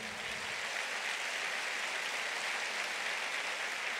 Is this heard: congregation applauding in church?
yes